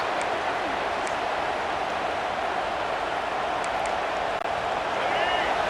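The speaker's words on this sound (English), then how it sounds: "Listen to the crowd energy here in the early going." In EA Sports College Football 26, during a BYU versus Michigan game, the stadium crowd keeps up a steady, loud roar throughout, with a voice faintly present beneath it.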